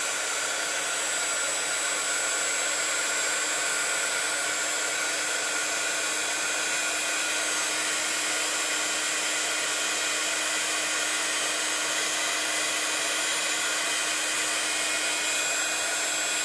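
Embossing heat gun blowing hot air over powder, a steady loud whooshing fan roar with a faint whine that stays constant and close throughout.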